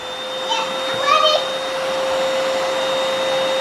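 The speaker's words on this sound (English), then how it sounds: "So I'm vacuuming and Bear and Lyndle are putting things directly in front of the vacuum for me." A vacuum cleaner runs steadily nearby with a constant high whine and airy roar, while young children's voices chirp briefly over it in a home.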